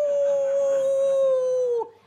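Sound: dog howling

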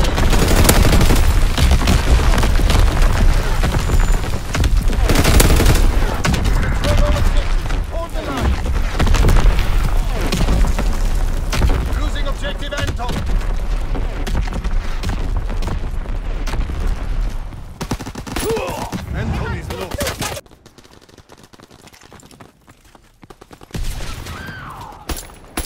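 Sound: artillery barrage firing in the video game Call of Duty: WWII

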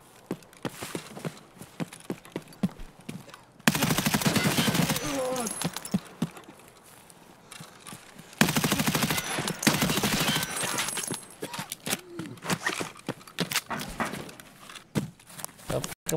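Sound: video game gunfire, Vector .45 with RIP ammo

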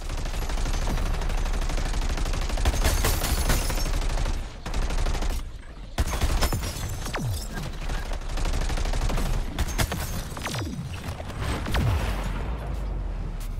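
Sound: fear gun gunfire in the video game Suicide Squad: Kill the Justice League

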